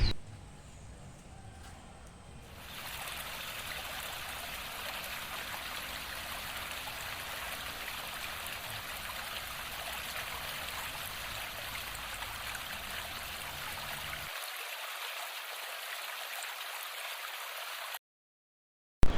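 A river stream flows in a steady, even rush of water that runs continuously and fairly close, starting quieter before rising to a constant level.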